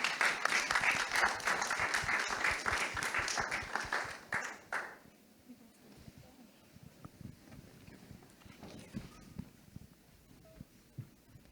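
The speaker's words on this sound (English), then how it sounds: "Help me to give them a round of applause" An audience at a Belize electricity-access forum claps for about five seconds, dense and moderately close, then the applause thins into a few scattered claps and quiet room noise.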